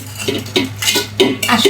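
Mung dal is stirred into sautéed spice paste in a cooking pot, giving quick, close metallic clinks and scrapes of a utensil against the pot in an uneven rhythm.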